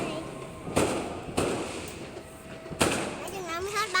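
New Year's Eve fireworks explode outdoors in three separate loud booms spaced a second or more apart, with people talking nearby between and after the bangs.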